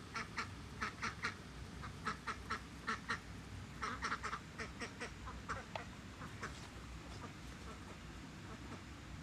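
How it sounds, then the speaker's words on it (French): Indian Runner ducks quack on a pond at an organic permaculture market-garden farm. The quacks come in repeated clustered bursts, fairly close, over a low rumbling background. "les mares sont devenues le lieu de vie de canards qui s'appellent des coureurs indiens"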